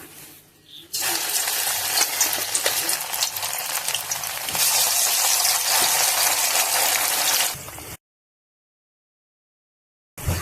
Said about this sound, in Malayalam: അപ്പൊ നമുക്ക് കുറേശ്ശെ ചിക്കൻ വറുത്തെടുക്കാം